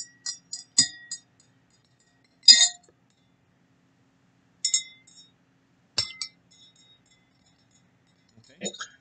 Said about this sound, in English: I'm going to stir each of these up.